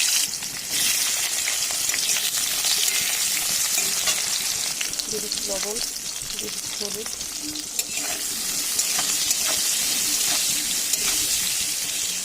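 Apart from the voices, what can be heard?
eggplant frying in pan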